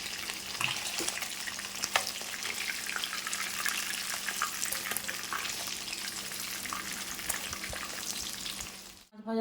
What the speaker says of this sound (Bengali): মাছ ভাজার তেলে আমি দিয়ে দেবো আদা আর লঙ্কা পেস্ট।